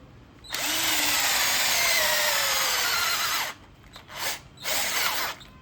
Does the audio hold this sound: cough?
no